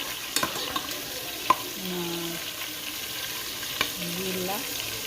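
Food frying in hot oil while cooking rice and beans, a soft steady sizzle with a few clicks and light stirring knocks, fairly quiet.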